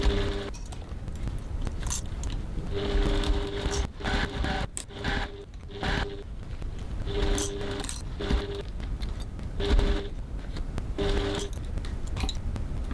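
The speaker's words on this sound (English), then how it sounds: "we're going to go over to the sewing machine and stitch all the way around that seam" A sewing machine stitches a seam around a crossbody bag at 2.4 stitch length, running in repeated bursts of rapid mechanical whirring and clatter with short pauses between runs.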